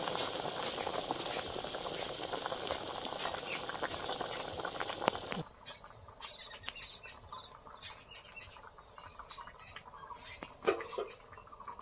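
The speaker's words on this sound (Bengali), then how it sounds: "এবার তরকারিটা ভালো করে ফুটিয়ে নেবো।" Bengali fish curry of fried khoira hilsa with wild yam fruit bubbling in a pot, a loud dense simmering hiss that cuts off abruptly partway, leaving faint scattered bubbling and pops against quiet outdoor background.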